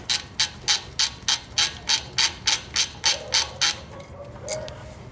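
A ratchet loosens a 12mm caliper bolt on a Honda Civic during a front brake pad job, giving about twelve even, crisp clicking bursts at a steady rhythm, close and clear, with no talking.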